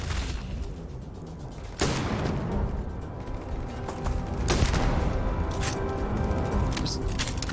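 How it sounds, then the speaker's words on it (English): Shotgun blasts in the space game Starfield: two sharp, loud broadband reports about three seconds apart, over a busy game soundscape of rumbles and mechanical clatter. "God, I love the satisfaction of a shotgun."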